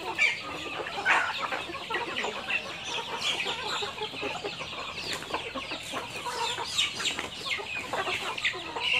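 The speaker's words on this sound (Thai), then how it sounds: "เป็นไก่เลี้ยงตามธรรมชาตินะคะเลี้ยงในสวนยาง" Free-range chickens raised in a rubber plantation cluck steadily and overlap one another, with nearby clucks over a dense, continuous chorus of the flock.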